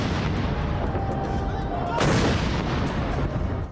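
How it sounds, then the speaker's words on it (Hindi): A 21-gun artillery salute is fired on Kartavya Path during the Republic Day parade, with a heavy boom cracking out mid-clip over a busy open-air crowd rumble and a faint voice in the background. "हमारे ठीक पीछे इस समय 21 तोपों की सलामी दी जा रही है।"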